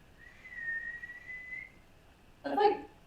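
A person whistles through their teeth, first a long, thin, steady tone lasting over a second, then a brief louder, breathier burst, both close and alone.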